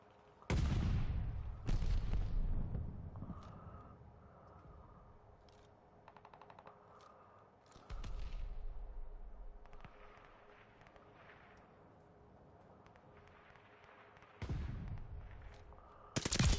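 Video game gunfire rings out in loud, sharp bursts and single heavy blasts, separated by quieter gaps with faint game effects, close and punchy.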